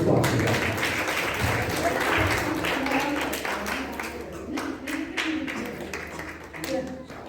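An audience at an Arya Samaj gathering in Vivek Vihar, Delhi, breaks into applause, a burst of clapping that thins into scattered claps, with voices mixed in underneath.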